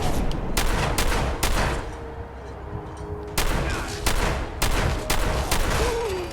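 Repeated loud gunshots in Fallout 4, a harpoon gun firing in a burst of sharp blasts. A quieter gap sits in the middle, then several more shots crack close and heavy, with no voices in between.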